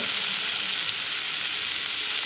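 Ridge gourd and tamarind fry in a pan with a loud, even, hissing sizzle that holds steady throughout, close up and without any voices.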